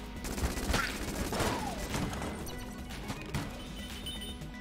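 Gunfire in Enter the Gungeon, a dense run of loud shots and impacts with crashing hits, continuous over a few seconds at close range.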